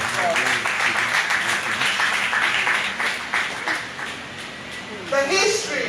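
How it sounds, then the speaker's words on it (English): An audience applauds at a keynote address, with dense, sustained clapping that carries on through the clip beneath an amplified speaking voice. "Let us give him a round of applause."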